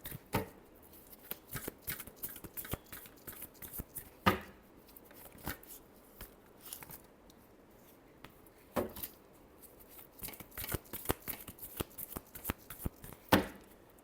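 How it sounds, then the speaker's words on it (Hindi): Tarot cards being shuffled by hand: soft, irregular riffles and taps with a few sharper flicks, fairly quiet and close, continuing unevenly without speech. "Last shuffle."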